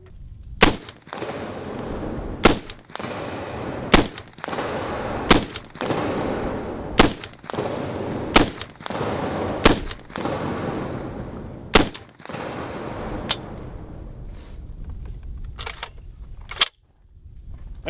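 Serbu .50 rifle shots, about ten loud, heavy booms spaced a second or two apart, each followed by a rumbling decay, plus a few fainter distant reports near the end, with no talk during the firing.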